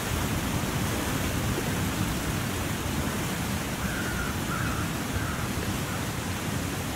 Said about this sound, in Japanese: すごい音してる。 滝か。